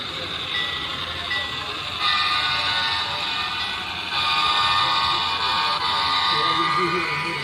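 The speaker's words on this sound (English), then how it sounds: "There's a train." A model train rumbles past at a train show with a steady, bright metallic whine and rushing noise, fairly loud and continuous throughout.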